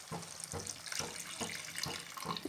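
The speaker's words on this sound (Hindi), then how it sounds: "अब हम इसमें दूध डाल देंगे" Milk is poured into chicken changezi cooking in a pan, giving a steady, close liquid splash with soft rhythmic surges over a continuous wash, with no talking.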